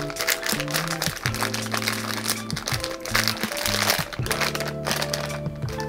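A plastic bag of Myojo oriental-flavor udon noodle soup crinkles and crackles continuously as it is pulled open up close, with musical tones playing underneath.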